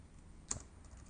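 A single keystroke on a computer keyboard, typed while writing code, lands as one short, faint click midway through an otherwise quiet stretch.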